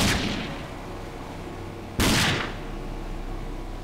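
Two loud, booming gunshots fired at an enemy in the shooter game Rage, spaced about two seconds apart, each with a hard attack and a decaying rumble, with no voices.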